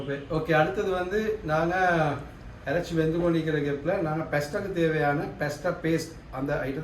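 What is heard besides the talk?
No distinct noise like a dog, phone or traffic.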